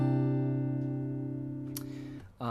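Plucked chord with a pinky hammer-on, one sustained strum ringing for about two seconds before a brief scrape and cutoff, played alone at moderate volume.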